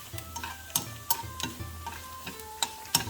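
Onions and curry leaves sauté in a pan for a Kerala-style salmon curry, a soft sizzle punctuated by irregular sharp clicks and taps of a spatula stirring against the pan.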